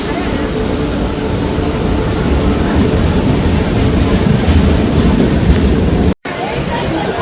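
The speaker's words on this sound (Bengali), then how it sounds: "আমাদের ট্রেন ঢুকছে ভুবনেশ্বর স্টেশনের 2 নম্বর প্ল্যাটফর্মে।" The 12246 SMVT Bengaluru–Howrah Duronto Express rolls into platform 2 at Bhubaneswar station with a loud, steady rumble and rail clatter that continues throughout, broken only by a brief cut near the end.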